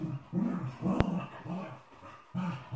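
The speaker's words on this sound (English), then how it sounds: "You know, Cody, are you jealous because I have the doggy here?" A dog growls and whimpers in short repeated bursts, close and fairly loud, with one sharp click in the middle; no talking.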